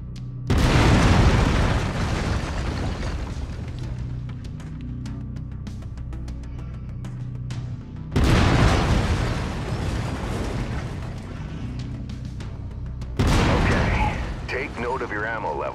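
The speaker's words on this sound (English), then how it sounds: "I've mapped the autocannon to weapon group one. You're free to fire whenever you're ready." Autocannon fire from a mech in MechWarrior 5 comes as three heavy, booming bursts, each long and loud, followed by rumbling decay and mechanical rattle, with a voice talking in between.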